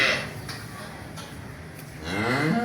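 A cow moos nearby over a low background hum, the call rising at the end of the short clip.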